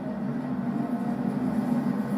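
Train rumbling along in a Batman video game, a steady low mechanical drone with a humming tone, continuous and even throughout with no voices.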